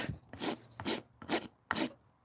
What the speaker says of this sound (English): this rasp sucks